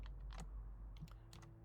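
A few faint, close clicks of a single key being pressed on a computer keyboard while playing Skyrim, spaced apart in sparse bursts over a steady low background hum, with no talk.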